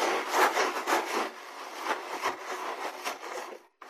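Brush bristles scrubbed back and forth on a plain, damp surface to clean out paint, giving repeated rough rubbing strokes at a close, steady level that stop abruptly at the end.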